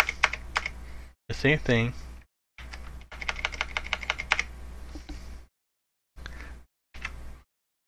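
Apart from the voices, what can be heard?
typing on computer keyboard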